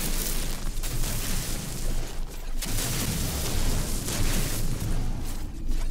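Terrain blasted apart in No Man's Sky, a loud sustained roaring, rumbling blast that surges and dips in waves for several seconds, with no talk.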